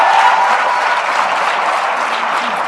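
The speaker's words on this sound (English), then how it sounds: "Ladies and gentlemen, a warm round of applause, please, for the panel." Forum audience applauding a panel, a loud, dense and steady wash of many hands clapping throughout with no break.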